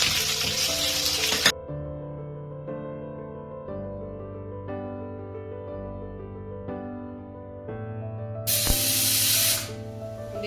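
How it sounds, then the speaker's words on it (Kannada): Cumin, pepper and mustard seeds hit hot oil for a khara pongal tempering, making a loud, bright sizzling hiss in two bursts, one at the start and one near the end, with a quieter tonal stretch between them. "ಈ ಜೀರಿಗೆ, ಮೆಣಸು, ಸಾಸಿವೆ ಎಲ್ಲ ಒಂದು ಸ್ವಲ್ಪ ಎಣ್ಣೆ ಒಳಗಡೆ ಫ್ರೈ ಮಾಡಿಕೊಂಡು"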